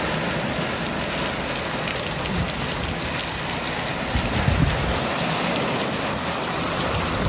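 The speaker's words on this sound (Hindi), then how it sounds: "तेज बारिश हो रही है।" Heavy rain pours down steadily in Mumbai, a dense, even hiss of drops striking surfaces, close and loud throughout with no voices.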